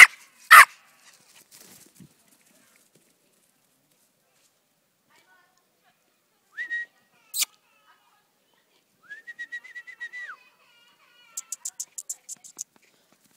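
A small Prague ratter dog gives a quick run of sharp, high-pitched yips close by near the end, after scattered whistles and short clicks broken by long quiet gaps.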